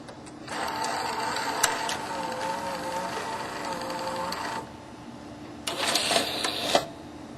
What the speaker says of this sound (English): Here's a look at the bottom of the VCR as a tape is loaded.